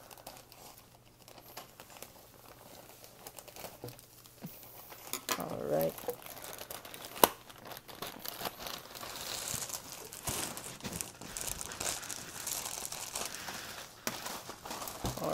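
Crinkling and rustling of tripod packaging being cut open with safety scissors, fairly faint and close, with a sharp snip partway through and a brief spoken word early on.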